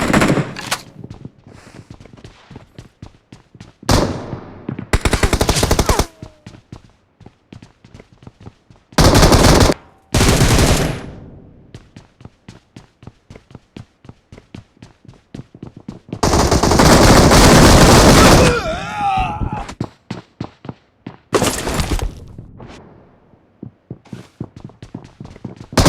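Machine gun fire in the mobile shooter BGMI (PUBG Mobile) comes as loud rapid bursts of varying length, with long sustained volleys between sparse single shots and quiet gaps, and no talking.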